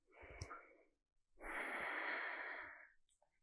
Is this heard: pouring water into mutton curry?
no